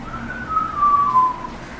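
A single ordinary lip whistle, sustained as one clear, faintly wavering tone for about a second over a quiet background.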